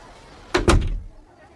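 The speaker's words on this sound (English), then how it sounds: "And the woman closed the door." A door shuts with a solid double thump, one quick knock then a heavier slam that rings briefly and fades, close and alone.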